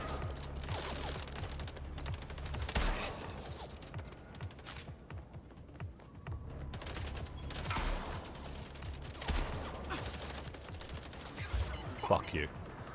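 Gunfire in the video game Mindseye: repeated shots and bursts scattered across the clip over a steady low rumble of game sound, with louder clusters near the start, middle and end.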